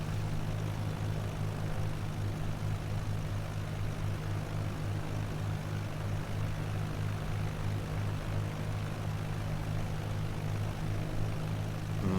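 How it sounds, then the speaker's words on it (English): Propeller plane on a UK coastal flight heard from inside the cabin, a steady loud engine drone with a constant low hum throughout and no talk. "My plane, as you can see, has got a bit of a drift on it."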